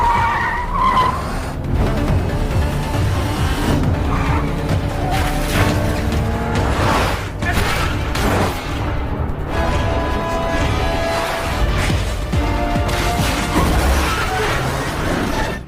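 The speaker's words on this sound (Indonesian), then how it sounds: "Lalu terjadilah aksi kejar-kejaran antara mobil Taesok, Dongsu dan si Devil." Cars screeching, skidding and smashing during a car chase in a film, loud repeated tire squeals and sharp crash impacts over a dense roaring engine bed.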